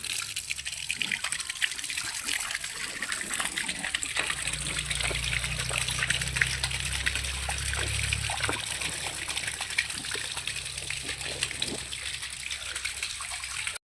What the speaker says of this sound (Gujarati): પાણી ચાલુ કરી દીધું